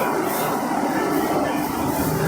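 Delhi Metro Yellow Line train heard from inside a carriage, a loud, continuous rumble of wheels and motors running steadily with no talk.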